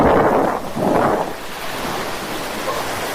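Surf washing onto an empty, undeveloped stretch of Estanza beach in Lingayen, Pangasinan, two broad wave surges in the first seconds easing into a steady, softer hiss, with wind buffeting the microphone.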